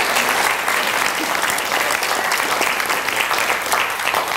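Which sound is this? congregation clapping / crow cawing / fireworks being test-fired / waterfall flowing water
congregation clapping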